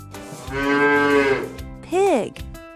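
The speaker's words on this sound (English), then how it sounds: "Bull." A bull on a farm gives a long, deep, loud moo, followed after a brief pause by a shorter, falling moo, both close and clear.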